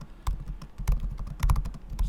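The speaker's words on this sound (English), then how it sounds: "I guess I'll start typing first" Fingers type on a computer keyboard in quick, uneven bursts of close, crisp key clicks and clacks, with no voices.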